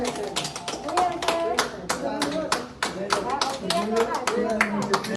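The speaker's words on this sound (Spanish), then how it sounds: "donde quienes vencieron a la pandemia fueron despedidos entre aplausos" A crowd claps steadily as recovered patients who beat the pandemic are sent off from the Clínica Guayaquil, dense continuous applause with sharp individual hand claps and a few voices mixed in.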